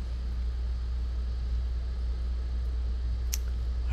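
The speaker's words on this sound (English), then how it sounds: "There's a delivery truck just off camera here." A delivery truck sits just off to one side on a damp city street, its engine giving a steady, continuous low rumble that stays constant throughout, with a brief faint high click near the end.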